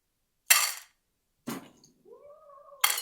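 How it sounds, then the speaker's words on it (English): A talkative house cat meows a few separate times, close by and loud, with short pauses between the cries and a faint clink of dishes nearby. "I don't know if I've ever heard a cat talk so much."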